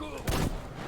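A single loud gunshot bursts from a weapon in the video game Metro Exodus, short and punchy in the middle of a steady background bed of game ambience.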